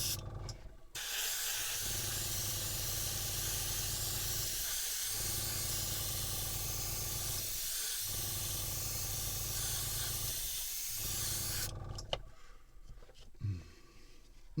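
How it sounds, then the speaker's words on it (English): An airbrush powered by a compressor hisses steadily as it sprays paint onto a 1:72 Airfix P-51 Mustang model kit, a loud continuous spray broken by four brief pauses before stopping. "Compressor on. Let's give it a bit of a spray up and see what happens."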